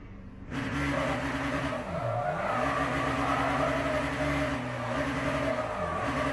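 A race car in Le Mans Ultimate revs hard while doing donuts, its engine note rising and falling over sustained tire squeal, loud and close with no talking.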